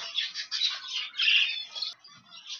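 Budgerigars in an aviary flight give bright, busy chirps and squawks in overlapping bursts, close and steady, with a short pause near the end and no talking.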